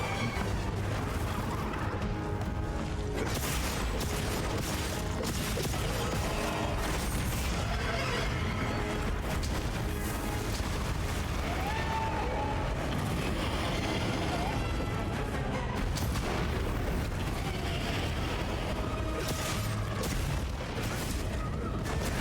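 Explosion in the video game Monster Hunter Wilds, a dense continuous rumble and crash sustained under heavy in-game noise with no clear breaks.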